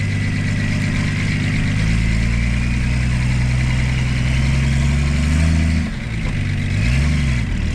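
A Ford Sierra six-cylinder car engine runs close by on wet ground, a steady deep drone with rising and falling revs that briefly dips near the six-second mark before climbing again.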